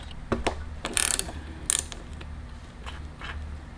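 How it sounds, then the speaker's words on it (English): 17 mm socket on a ratchet wrench removing the tappet cover of a 1969 Honda CT70 motorcycle, a close series of quick ratcheting clicks in short bursts with light metallic handling noise and no talking. "This is a 17 millimeter head that you pull this tappet cover off with."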